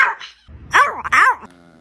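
A dog howls on request in two rising-and-falling 'ow ow' notes, close and fairly loud, after a brief human voice at the start.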